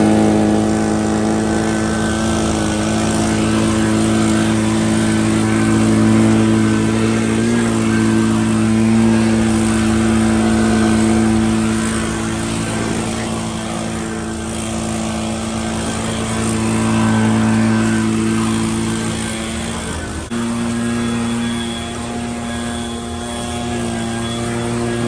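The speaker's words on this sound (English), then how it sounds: "This truck is leaving." A 1973 Ford F250 4x4 crew cab truck drives away, its engine a loud steady drone with a deep rumble that shifts pitch briefly near the end, continuous throughout with no talking.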